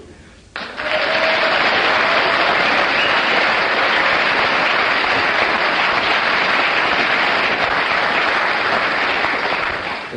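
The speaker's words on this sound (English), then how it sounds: "you get 9 for your applause" A studio audience at a British radio comedy panel show breaks into sustained, loud applause that starts abruptly and holds steady for about ten seconds, with no talk over it.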